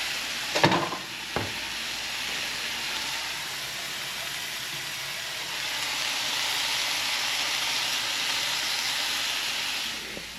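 Pork chops frying in a Dutch oven with a little fat at a campsite, a steady loud sizzle and hiss that holds for about ten seconds after two brief knocks at the start.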